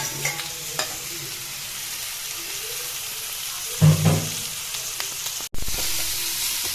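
Pork dry-frying in a pan with no oil, a steady close sizzle with a few spoon scrapes and a brief louder knock partway through, briefly cut off then resuming, with no voices.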